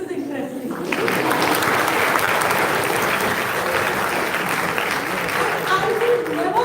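An audience at a live talk on homeopathic clinical cases bursts into applause after a quiet moment; dense, loud clapping starts about a second in and holds steady to the end.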